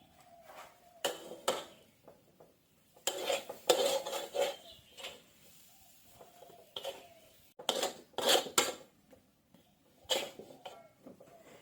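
A metal spatula stir-fries a pastry filling in a pan Chinese style, producing bursts of clanking and scraping against the metal separated by short quiet gaps, with only a faint sizzle and no talking.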